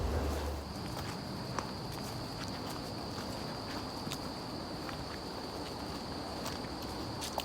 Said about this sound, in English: there's so many crickets in here. There's a lot of crickets.